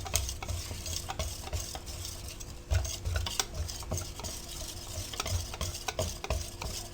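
A spoon briskly stirs a mixture just after cooking oil is added, giving repeated close scraping and clinking strokes over a low background hum, with no talking.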